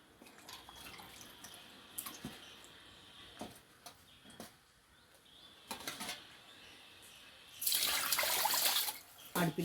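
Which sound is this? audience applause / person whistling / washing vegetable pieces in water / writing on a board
washing vegetable pieces in water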